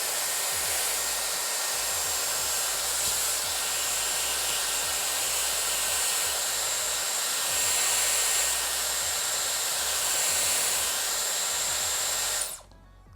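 Dyson Airwrap hair styler blows a steady, close, breathy rush of air that holds constant throughout, then cuts off abruptly at the end; no voices.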